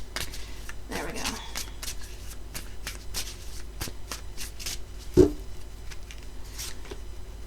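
A deck of cards is shuffled by hand in a series of soft, close riffles and taps, with one louder thump midway and no voice.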